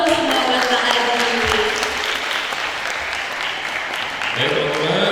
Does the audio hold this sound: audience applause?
yes